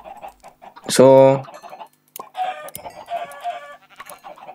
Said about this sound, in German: Ah Gott, da, Hühner.